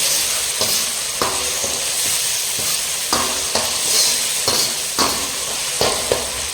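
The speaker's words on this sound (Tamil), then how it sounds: "தக்காளி வந்து கொஞ்சம் நல்லா மசிகிற அளவுக்கு குக் ஆகணுங்க" Tomatoes cook in a pan for a Sunday non-veg dish, a steady close sizzle with periodic scraping stirs every second or so, no talking.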